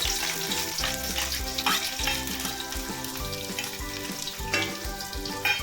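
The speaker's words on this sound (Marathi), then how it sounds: "त्यानंतर मी आता हा कांदा टाकते आहे." Onion frying with whole spices in hot oil in a heated kadhai for veg pulao, a steady dense sizzle with crackling bursts throughout, loud and close, no voices.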